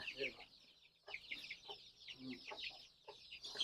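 Young chicks, 26 days old, chirp and cluck in a poultry rearing setting, with short repeated high calls in uneven bursts, fairly close and moderately loud.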